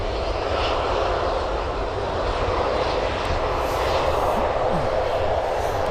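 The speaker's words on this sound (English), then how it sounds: "It's our first Ryanair departure." A Ryanair jet airliner departs from Birmingham Airport, its engines a loud, continuous roar with deep rumble and a broad hiss, steady and close throughout.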